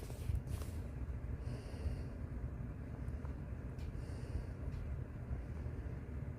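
Large scaly creature breathing and snorting, a deep rumbling stream of heavy breath with a few short, sharp snorts breaking through, low and steady throughout.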